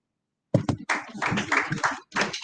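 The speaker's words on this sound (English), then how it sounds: "A round of applause for Sarah." An audience at an agricultural biotechnology workshop for senior editors breaks into a round of applause. The dense, close clapping starts abruptly and runs steadily for about a second and a half, dips briefly, then picks up again.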